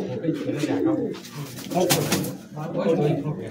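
Madrasi high-flying pigeons coo repeatedly in low, throaty rolls, close by in a loft, with a few soft rustles between calls.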